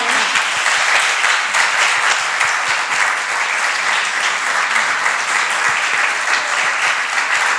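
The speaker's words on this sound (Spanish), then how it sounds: "Un aplauso muy fuerte." Loud, sustained applause from a symposium audience after a plenary talk, many hands clapping evenly throughout with no speech over it.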